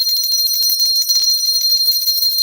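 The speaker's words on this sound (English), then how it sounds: "Give you a nice Liberty Bell ring here." A small Liberty Bell replica with a crack in it rings continuously, a bright, high, sustained metallic shimmer that holds steady and fairly loud throughout with no pauses.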